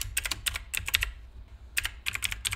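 Typing on a computer keyboard while entering text into a Microsoft Word document, with quick bursts of close, crisp key clicks separated by a short pause, and no talking.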